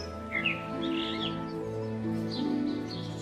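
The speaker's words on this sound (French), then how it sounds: "la proximité des oiseaux, qui sont quand même des oiseaux urbains, et qui ont pas peur de l'être humain" Urban birds in Père Lachaise cemetery chirp and tweet in short bright bursts over a low steady background hum, with several calls spread through the stretch at moderate distance.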